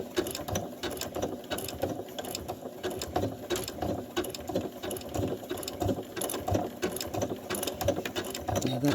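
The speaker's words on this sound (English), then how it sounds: "I need to sew right to the end of here" A sewing machine stitches slowly along a fabric binding, its needle mechanism chattering in a fast, steady, slightly uneven mechanical rhythm close by, with no speech.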